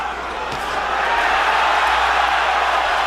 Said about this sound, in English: Polish crowd comes alive as Szpilka lands a combination